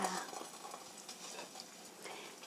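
Egg frying in a hot pan for egg-in-the-basket toast topped with Emmental cheese, a soft continuous sizzle with faint scraping and stirring close by, at fairly low volume.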